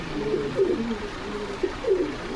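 Pigeons at a pigeon market in Bogura cooing nearby in soft, low, rolling calls, several coos overlapping over a steady background murmur.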